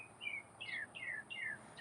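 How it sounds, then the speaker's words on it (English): Birds sing outdoors in a garden, a faint, steady series of high, rapid chirping phrases repeating every half second or so over a soft background hiss. "The birds are very happy."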